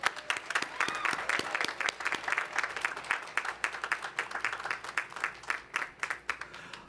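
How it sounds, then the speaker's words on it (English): A commencement audience at Lincoln University gives choir members a round of applause, crisp and fairly close, with distinct individual claps rising in a steady rhythm for several seconds. "Let's give them another hot round of applause."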